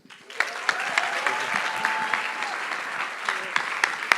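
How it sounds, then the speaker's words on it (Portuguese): Church congregation in Lisbon applauds steadily for several seconds, a dense even wash of clapping that holds at a fairly loud level throughout, with no speech over it. "Vamos dar uma salva de palmas para Jesus."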